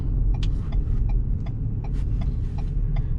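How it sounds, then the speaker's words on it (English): Low rumbling hum of a 2024 Ford Bronco Sport Badlands sitting in stopped city traffic at a light, with steady engine throb and faint intermittent ticking clicks, no voices. "These cars are not moving at this light. There's a lot of traffic up here."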